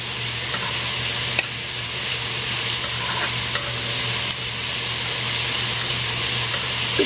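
Pimento peppers fry with garlic in a hot pan, giving a loud, constant sizzle and hiss while a spoon stirs them, with brief scraping clicks now and then and no voices.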